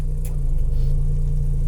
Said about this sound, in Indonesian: Dan sekarang kita nyalakan AC sob.